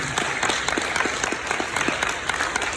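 An audience applauds the parents at a 2024 graduation ceremony, with steady, dense clapping from a large crowd filling the whole moment and no voices over it.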